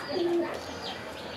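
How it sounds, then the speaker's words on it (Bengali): A large pigeon gives a single soft, low coo close by over faint background noise, with no talk. "একজোড়া কমলা কালার বলি আর ইয়েলো কালার বলি, একজোড়া বড় পায়রা কবুতর"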